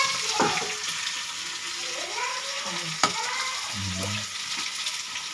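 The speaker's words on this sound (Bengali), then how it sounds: "রুই মাছ যেটি রান্না হচ্ছে" Rohu fish frying in a pan gives a steady, close sizzling hiss throughout, with occasional stirring clatter and a faint voice murmuring underneath.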